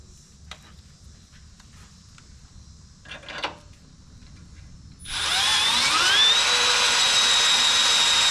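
A drill bores a vehicle shock eyelet out to 5/8 inch, spinning up suddenly after a few faint clicks and then whining loud and close, pitch rising as it bites into the metal.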